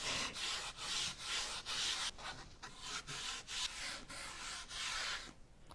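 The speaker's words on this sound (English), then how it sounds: "I'm going to put a little clear fusion mineral wax around the edges." Clear mineral wax rubbed by hand around the edges of a stained wooden sign, heard as close, steady swishing strokes in a regular back-and-forth rhythm, with brief pauses between passes.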